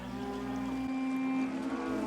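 Cows moo in long, drawn-out, low bellows, one sustained call stretching across the moment, fairly close and clear with no talk over it.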